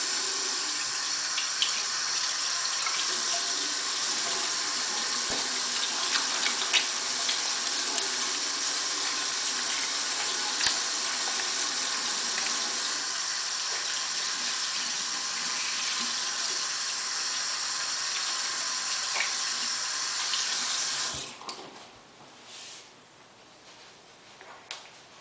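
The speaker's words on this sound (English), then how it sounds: "start out by washing your hands" Hands being washed under a running tap fill about twenty seconds with a steady, close rush of water, which then cuts off, leaving faint dripping and quiet room noise.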